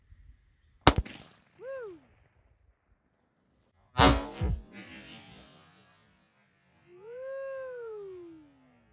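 A Mossberg Patriot bolt-action rifle in .270 Win fires two loud, sharp shots roughly three seconds apart, each leaving a short echoing tail, with quiet whooping voices rising between and after the blasts.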